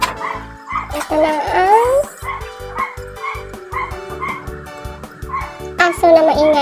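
Several dogs bark, yip and whimper in quick repeated bursts close by, while a person talks over them in a home kitchen as vegetables are cooked.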